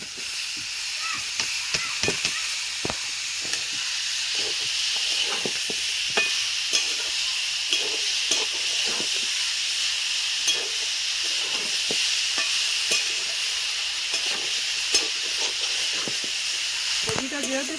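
Cabbage and boiled potato sizzle steadily in a hot pan for chutney-style cooking, with a broad continuous hiss and occasional scraping stirs throughout.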